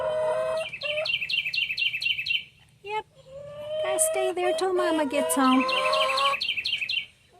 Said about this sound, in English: Oh, listen to that pretty bird.